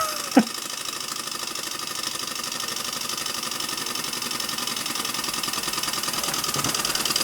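A Märklin 4113/6 model steam donkey engine runs steadily, a close, continuous mechanical chugging and knocking at an even pace, with one short sharp knock near the start.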